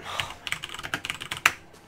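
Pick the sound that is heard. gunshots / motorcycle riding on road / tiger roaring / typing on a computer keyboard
typing on a computer keyboard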